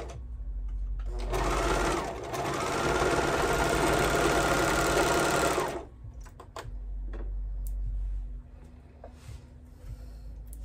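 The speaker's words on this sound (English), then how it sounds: "I'm just gonna sew the crotch down. Now I'm on the other side. Sewing it all the way out." A serger runs steadily for about four seconds, sewing the crotch seam of a pair of baby bell-bottom pants. It starts and stops cleanly against a low hum, with a few faint clicks afterward.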